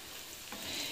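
Tomatoes drop into a hot pan of frying onion and green and dried red chilies, giving a brief close sizzle that swells into a louder hiss.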